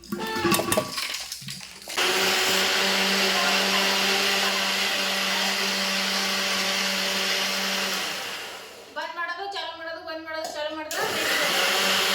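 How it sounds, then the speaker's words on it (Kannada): A mixer grinder blends curd in a mixie jar with a loud, steady, close whir for about six seconds. It stops, a voice speaks briefly, and the motor starts up again. "ಮೊಸರನ್ನ ಹಾಕೋತೀನಿ ರೀ ಮಿಕ್ಸಿ ಜಾರಿಗೆ ಈಗ ಇದು ಪೂರ್ತಿ ಮಿಕ್ಸಾಗಿ ಹಾಕ್ಬೇಕು"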